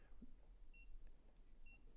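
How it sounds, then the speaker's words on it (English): A mains-powered heat mat for curing resin gives two short, thin electronic beeps about a second apart. They are faint against a quiet background hiss. "It gives you a little beep."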